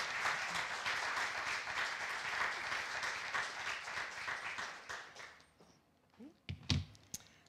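Sustained applause from an in-person audience at a lecture welcoming a conservation speaker, dense and steady clapping for about five seconds before tapering off into a few scattered knocks and thumps.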